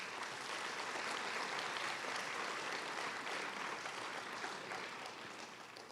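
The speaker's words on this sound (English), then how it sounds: "So give them another round of applause, please." Sustained applause from an audience at a Martin Luther King Jr. Day celebration event, a dense steady roar of many hands clapping for about six seconds, tapering slightly toward the end.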